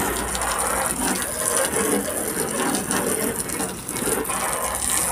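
Water sprayed from a hose onto a car during washing, a steady broadband hiss that holds evenly and loud across the whole stretch with small fluctuations, no voices over it.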